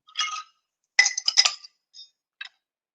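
Ice clinks inside a mixing glass as a cocktail is stirred: a few bright, glassy taps in short bursts separated by brief pauses, close and clear with no voices.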